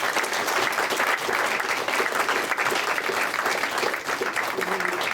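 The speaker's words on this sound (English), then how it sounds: "We applaud you" A church congregation applauds the mothers, grandmothers and stepmothers standing among them, sustained loud clapping filling the room throughout, with some voices mixed in.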